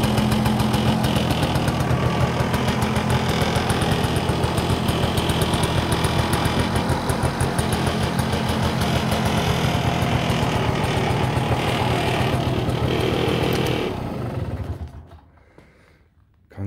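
A Zündapp R50 motorcycle engine idles steadily and loudly with a rapid, even knocking rhythm as a side panel vibrates, then the engine cuts off and winds down near the end.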